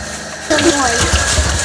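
Champignon mushrooms are poured into a bowl of water for washing in a home kitchen, giving a sudden loud splash and gush followed by continuous sloshing and rushing water.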